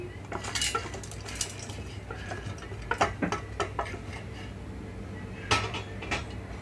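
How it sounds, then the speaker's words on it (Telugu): Dry lentils are tipped into a mixer grinder jar. Scattered close clicks and light rattles fall across several seconds, with no talking. "ఇక్కడైతే ముందుగా మిక్సీ జార్లోకి పప్పులన్నీ వేసేసుకుంటున్నాను."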